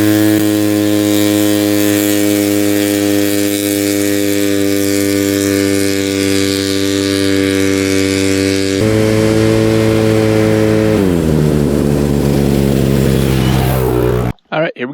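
A 4x4 ATV engine, once smoking and broken down, runs loud and close on a break-in ride, holding a steady drone before the pitch shifts and drops as it changes speed, then cuts off abruptly near the end.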